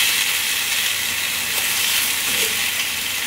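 Onion and egg frying in a pan for a Japanese-style rice dish, making a steady, dense sizzle and crackle that holds evenly throughout with no voices.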